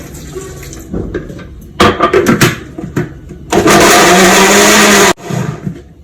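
Water is poured into a blender with clattering, then a loud, harsh whirring of about a second and a half blends tomatoes and water into juice before cutting off abruptly.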